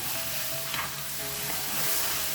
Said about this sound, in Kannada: ಇವಾಗ ಕರಿಬೇವು ಮತ್ತು ಇದ್ರದ್ದು ಬೆಳ್ಳುಳ್ಳಿದು ಹಸಿ ವಾಸನೆ ಹೋಗೋ ತನಕ ಹುರ್ಕೋಬೇಕು